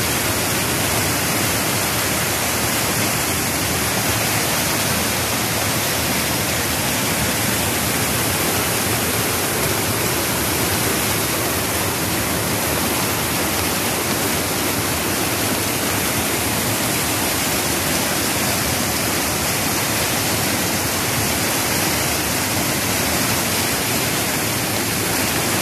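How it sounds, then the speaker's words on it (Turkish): Overflowing, flooded streams rush with a loud, dense and unbroken roar of water that stays constant throughout. "Dereler doldu, taştı ve buna engel olan kimse yok."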